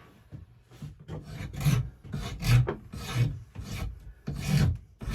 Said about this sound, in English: Remember to keep that rasp rolled. That way you don't end up with a flat spot.